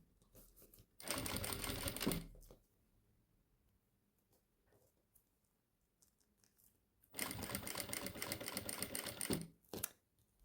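Sewing machine stitches bias binding around a curve on a clear plastic folder in two loud, rapid bursts of about a second and two seconds, separated by a quiet pause with faint handling noise.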